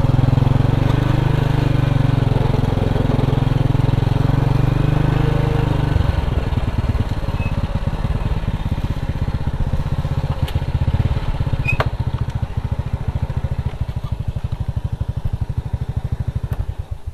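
Honda Supra motorcycle on a test ride through a village, its engine droning loudly and steadily up close, shifting to a rougher, pulsing rev partway through.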